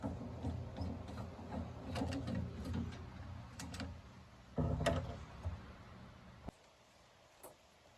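Self-tapping screws being backed out of the headlight cover on an NA Mazda Miata, with a run of small close ticking and ratcheting clicks, a heavier clatter midway, then quieter room tone with a lone tick.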